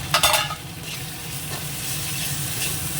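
Onions fry in a pan with ginger and garlic paste, giving a loud, close, steady sizzle, with a brief burst of stirring at the start.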